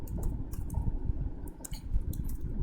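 Steady clatter of keys typed on a computer keyboard during a coding lesson, irregular bursts of close, crisp clicks with no voice over them.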